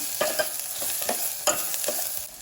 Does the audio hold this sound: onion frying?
yes